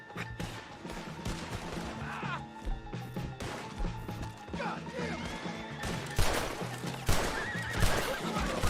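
A horse in a video game whinnies repeatedly amid clattering hooves and sharp crashing impacts, busy and loud, with no talk over it.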